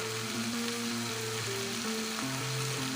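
Snakehead fish pieces seasoned with salt and turmeric fry in oil over medium heat, giving a continuous dense crackling sizzle that stays even and close throughout.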